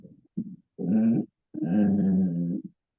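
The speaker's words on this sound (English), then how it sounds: "your dog nephew was totally flipping out at an innocent passerby outside the window" A dog indoors growls and grumbles at a passerby outside the window, a few short huffs followed by two long, low rumbling growls, loud and close with no talking.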